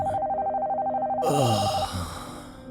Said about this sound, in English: The phone continued to ring until he picked up.